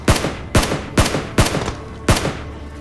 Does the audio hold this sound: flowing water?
no